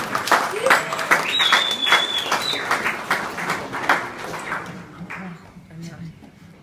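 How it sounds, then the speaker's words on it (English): Wedding guests applaud the bridesmaids in a dense burst of clapping that fills the room, mixed with cheering voices and chatter, then thins out toward the end. "I just want to give them a round of applause"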